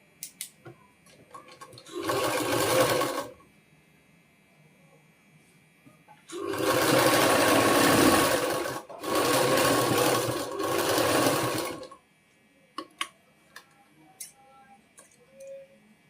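Sewing machine stitching a seam on trousers, running in three bursts of steady whirring, one short and two long, close and loud, separated by quiet pauses with small clicks.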